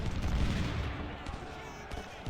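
Cannon artillery fires in a Civil War battle game, Ultimate General: Civil War, heard as a dense rumble of booming shots with a burst near the start and scattered reports after, under steady battle ambience.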